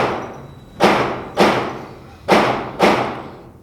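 Four loud, close gunshots from a Canik Mete MC9 pistol at a shooting range ring out in an uneven series, each a sharp crack with a brief ringing decay.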